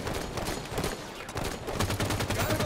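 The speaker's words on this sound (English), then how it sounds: "There's so many rounds flying everywhere." Many weapons fire at once in a Halo firefight, with dense, continuous rapid shots crackling loud and close, layered over one another throughout.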